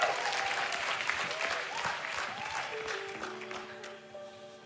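Crowd applause for the drummer Krisma at a church service, steady clapping throughout that slowly thins toward the end, with music tones ringing underneath.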